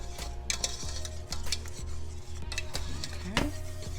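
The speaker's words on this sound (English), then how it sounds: "Keep stirring so it won't" Cheesy sauce with jack cheese stirred in a pot, repeated soft scraping and rubbing strokes of a utensil against the pot over a low steady hum, close and fairly quiet, with no talking.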